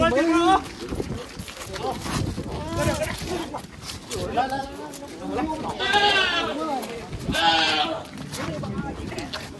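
Several goats bleat in wavering cries ahead of Eid al-Adha sacrifice, tied with rope, two loud bleats standing out near the end, with people talking throughout nearby.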